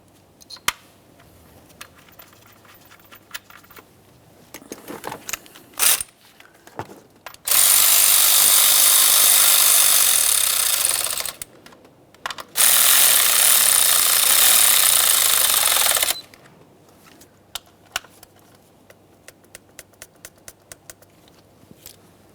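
A 10mm mounting bolt on the ignition coil of a 2012-2018 Nissan Maxima 3.5L V6 driven down with a power tool, two loud sustained rattling bursts of several seconds each, framed by light clicks and handling noises.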